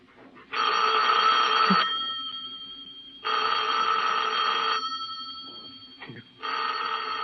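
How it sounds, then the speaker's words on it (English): An old-fashioned telephone bell rings in three long bursts with short gaps, loud and close, each ring a bright metallic trill in a 1946 radio drama scene. "Better answer the phone."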